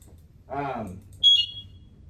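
A short high electronic alarm chirp from an SCBA breathing apparatus device, sounding briefly right after a person speaks nearby.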